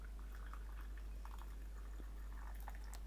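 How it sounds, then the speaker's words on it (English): Water heated to 90 degrees poured from a kettle to brew tea, a faint steady splashing trickle under a constant low hum, with no talk. "90 degrees. Let's pour it in."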